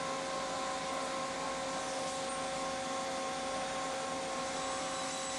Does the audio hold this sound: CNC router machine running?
yes